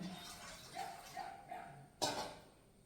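A few faint dog barks sound at a distance, spaced irregularly, followed by one sharper nearby knock or bump.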